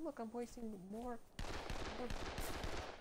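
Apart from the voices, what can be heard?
auto rifle gunfire in video game Dead Island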